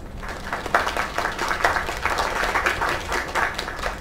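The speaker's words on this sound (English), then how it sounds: "Another round of applause." An audience applauds in the video game Lake, a steady wash of clapping with a few louder swells, close and continuous throughout.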